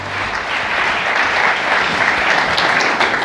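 Steady, dense applause fills the room from a large conference audience at the Lenovo Transform event in New York, a continuous wash of clapping with no speech over it.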